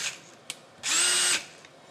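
A DeWalt 20V Atomic cordless drill driver (DCD803B) whirs briefly for about half a second at close range, preceded by a couple of faint clicks.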